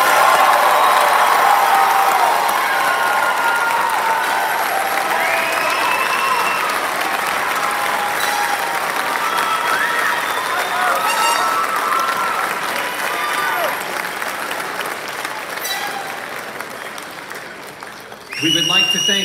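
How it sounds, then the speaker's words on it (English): A large crowd applauds at a high school graduation commencement for the class of 2023, sustained loud clapping with some cheering, fading slightly near the end before a voice begins speaking. "Please, everyone join us in another round of applause for the class of 2023."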